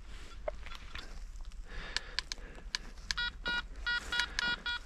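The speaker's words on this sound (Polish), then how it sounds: "teraz jest tu olbrzymi sygnał, gdzie cewka jest wysoko i pokazuje mi ID, słyszę dźwięk" A metal detector in a forest sounding off over a strong target with the coil held high, a series of short, clear electronic beeps and tone bursts that repeat faster near the end.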